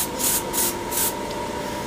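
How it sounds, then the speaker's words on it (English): Airbrush spraying primer paint onto a Kotobukiya model kit in three short bursts of steady hiss, close and fairly loud, over a constant faint background hum. "I'm having no problem spraying it on"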